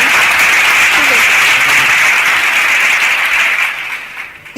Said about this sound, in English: A round of applause for these students, please. Let's put our hands together for them.